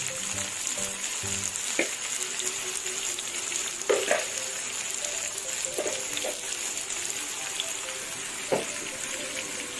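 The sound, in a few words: chicken frying in a pan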